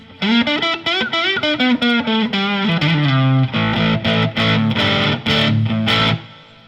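An electric guitar on its bridge pickup plays a distorted lead line through a JOYO DC-15S battery-powered amp with reverb, a loud run of sustained, bending notes followed by punchier repeated chords, with no talking.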